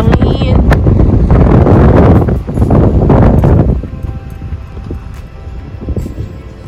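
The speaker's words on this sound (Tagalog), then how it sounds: "Oh, grabe hangin!" Strong wind buffets the microphone outdoors near Paradise City in Incheon, Korea, a loud broad rumble for the first few seconds that eases to a lighter steady gusting, with faint voices beneath.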